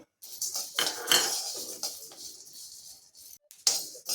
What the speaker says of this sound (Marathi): दोन चमचे तीळ दोन चमचे धने हे आपल्याला आता छान खमंग भाजून घ्यायचं आहे